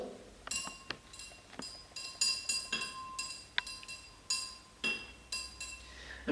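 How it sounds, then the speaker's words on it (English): A glass stirring rod clinks against the inside of a glass beaker during a classroom chemistry demonstration, giving a run of bright, ringing taps at an irregular rhythm, close and fairly loud, with no talk. "And I will stir this with my stirring rod."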